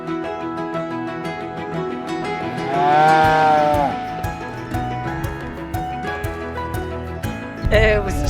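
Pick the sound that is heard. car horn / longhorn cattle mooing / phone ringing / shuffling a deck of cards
longhorn cattle mooing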